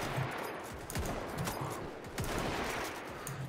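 Pistol shots ring out in a Mount & Blade: Warband battle, a few sharp reports scattered over a steady bed of battlefield noise, fairly loud with no talk.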